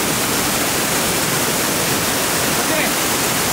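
A mountain river rushes along a hiking trail near Gunung Halimun, a loud, constant roar of flowing water that fills the whole moment, without pause.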